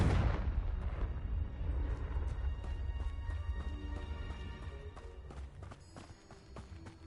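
A Confringo spell explosion in the video game Hogwarts Legacy bursts loudly at the start with a deep rumbling blast, then trails off into debris clatter and running footsteps over the next several seconds.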